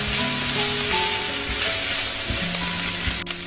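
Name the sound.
stir-frying ground beef with cabbage in a pan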